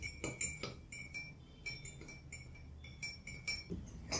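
A spoon clinks repeatedly against a cup while stirring milk detox tea, giving a run of bright, close metallic taps in an uneven rhythm, with no voices.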